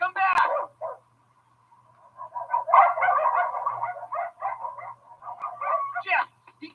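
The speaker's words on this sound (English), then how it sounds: "The dog!" A dog barks in a short burst of yips and barks, then again in a longer run of repeated barking, fairly close and loud, mixed with other sounds.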